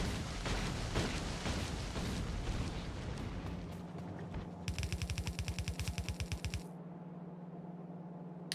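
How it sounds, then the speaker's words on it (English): New grenade explosions in the game Factorio: Space Age: a dense wash of rumbling blasts, then a fast, evenly spaced run of sharp bursts over a steady hum, ending in quieter background. "are those new grenade sounds?"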